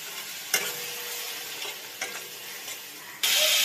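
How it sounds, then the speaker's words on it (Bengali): Mutton keema sautés in a pan with a little water, a continuous close sizzle broken by a few sharp scrapes of a spatula against the pan. The frying swells louder near the end. "এবার অল্প অল্প জল দিয়ে আরও কিছুক্ষণ কষিয়ে নেব।"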